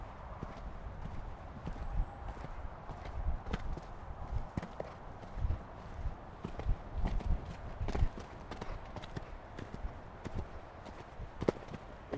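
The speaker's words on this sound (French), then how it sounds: "Être dans le galop de son cheval" A horse canters with rhythmic, thudding hoofbeats and scuffs on soft ground, repeating steadily throughout at moderate distance, with faint background noise.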